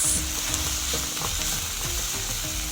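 Bell peppers in green, yellow and red sizzle in a pan with carrots, a steady close hiss with repeated stirring scrapes and soft clatters throughout, no voices.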